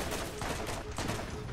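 Rapid continuous gunfire from a gun in Borderlands, a dense loud crackling burst of repeated shots filling the whole stretch.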